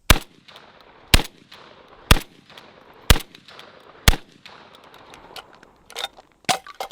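A Hatsan Escort DF12 AR-style shotgun fires in slow, evenly spaced single shots about a second apart, each a sharp loud blast with a short ringing tail, several more shots coming closer together at the end.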